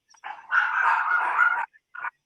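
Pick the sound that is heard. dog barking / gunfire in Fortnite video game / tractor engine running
dog barking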